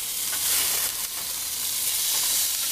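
Swordfish steaks searing in a hot pan, giving a steady, fairly loud hiss and crackle of sizzling oil that holds throughout with slight swells.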